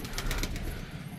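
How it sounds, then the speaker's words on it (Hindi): Pigeons coo outside a loft, sitting on bamboo, a soft, brief burst of cooing set against a noisy outdoor background. "अभी काफ़ी सारे कबूतर हमारे बाहर है"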